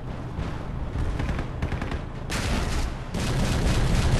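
Gunfire in the online shooter Battlefield Play4Free, dense bursts of shots and blasts running continuously, loud and close, growing heavier partway through.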